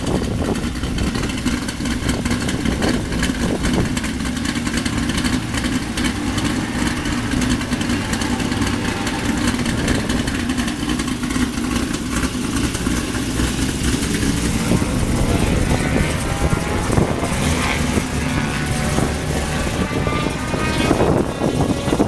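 A race car engine runs steadily at Pocono raceway, a loud continuous roar with shifting pitch that rises toward the end, with brief voices mixed in underneath.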